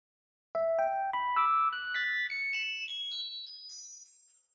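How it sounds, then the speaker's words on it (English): A Logic Pro Delay Designer feedback effect sends a bright synthetic tone climbing upward through a dozen evenly spaced stepped repeats, starting loud and thinning slightly as the pitch rises, with no voice present. "You can hear that the pitch keeps going up because it cycles through these values multiple times."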